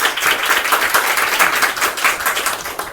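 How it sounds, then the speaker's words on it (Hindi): An audience at a business meeting gives a round of applause, dense and continuous clapping from many hands that holds at an even level for the whole stretch with no speech over it. "आप लोग जोरदार ताली स्वागत करिए"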